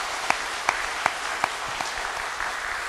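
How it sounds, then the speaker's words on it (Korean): A church congregation claps to welcome visiting elders, a steady wash of many hands with a few louder, nearby claps landing at a regular beat. "환영하는 의미와 격려하는 의미로 박수를 한번 칩시다."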